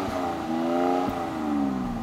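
A Mercedes-AMG GLC 43 4Matic in sport mode with its exhaust valve open, giving a steady, fairly loud engine and exhaust drone with a slight rise in pitch, close by and alone.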